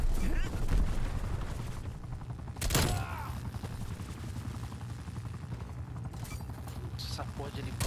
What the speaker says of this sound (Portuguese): Olha os helicópteros cravados em mim